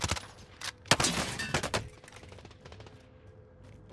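Enemy gunshots in a military shooter game, a quick cluster of loud sharp cracks in the first two seconds followed by fainter scattered shots in the distance.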